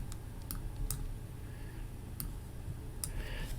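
Keys on a computer keyboard are pressed in a handful of sharp, isolated clicks spaced irregularly over a low background hum, close and fairly quiet, with no talking.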